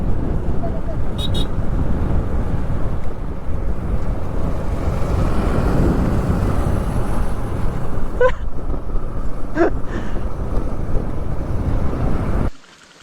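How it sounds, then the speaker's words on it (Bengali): Tourist cars pass along a road on the way to a waterfall on a hill route between Tripura and Meghalaya, a steady broadband rumble of traffic and wind, with a couple of brief horn toots and talk. "টুরিস্টের গাড়িগুলো যাচ্ছে এখান দিয়ে"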